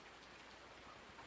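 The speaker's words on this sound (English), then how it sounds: "It's an irrigation system." Water spraying from an irrigation system in the farming video game Farming Simulator 19, a steady, even hiss like rainfall that runs without a break across the whole brief moment.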